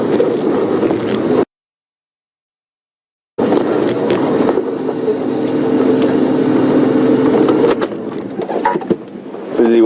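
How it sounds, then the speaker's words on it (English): A safari vehicle's engine runs loud and steady close by as it trails wild animals, a rumbling drone that drops out briefly before resuming through the rest of the stretch. "Busy watching this noisy car that's following them."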